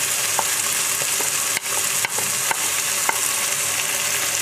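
Spices frying in a pan with onion, garlic, ginger and tomato, with turmeric and other ground spices added, give a steady sizzle with a few sharp stirring scrapes and taps, close and moderately loud, no talking.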